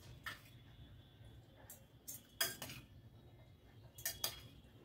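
A spoon scrapes and clinks against a bowl while mixing chopped cucumber and chili with soaked chickpeas, a few scattered short taps and scrapes over quiet room noise.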